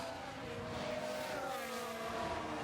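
Aston Martin Formula 1 car climbing a hill in F1 Manager 22, a steady high-pitched engine whine with rising harmonic tones, continuous and fairly quiet, heard alone without talk.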